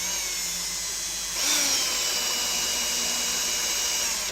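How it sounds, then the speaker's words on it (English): A power drill drives a screw into place at close range, a steady whirring whine that rises in pitch and loudness partway through, then cuts off abruptly. "So I'm just going to drill it in right here."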